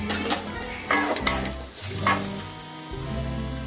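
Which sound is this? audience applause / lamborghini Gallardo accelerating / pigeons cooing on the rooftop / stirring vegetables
stirring vegetables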